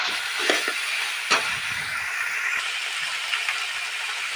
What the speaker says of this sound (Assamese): মই লৰাই ভাজি আছোঁ।